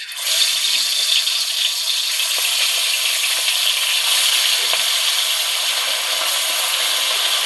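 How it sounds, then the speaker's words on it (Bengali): Tilapia frying in hot oil in a pan, giving a steady, loud, continuous sizzle that holds evenly from start to finish with no talking. "এই যে তেলাপিয়া বসাইতেছি,"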